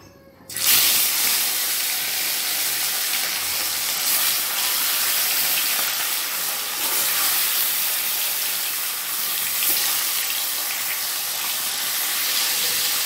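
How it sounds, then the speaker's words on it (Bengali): Rohu fish pieces go into hot mustard oil in a kadai and set off a sudden, loud, continuous sizzle and hiss that stays steady and close throughout, with no talking. "কড়াইয়ে আমি সর্ষের তেল দিয়েছি, তেলটা গরম হয়ে গেছে। আমি এবার মাছগুলো ভেজে নেব।"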